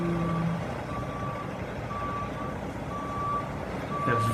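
A B-train truck reversing, its backup alarm sounding a regular series of sharp beeps over a low rumbling diesel engine, fairly close and loud with no talk.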